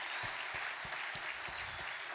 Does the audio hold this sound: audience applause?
yes